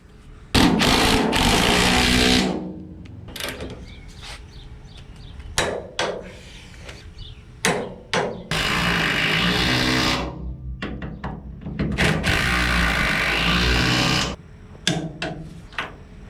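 Bolts are driven into the horn bracket on a VW Beetle chassis frame in several loud, close bursts of a power tool lasting a second or two each, separated by brief clinks and knocks.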